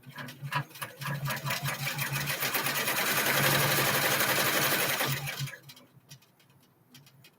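A sewing machine stitches a glow-in-the-dark appliqué, a steady close whirring run of rapid needle strokes for about five seconds before stopping, followed by a few faint clicks.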